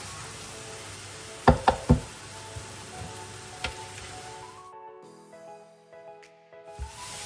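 A steady hiss of ajvar pepper paste sizzling in a hot electric frying pan, punctuated by a few sharp knocks of a utensil, before the sizzling abruptly drops away.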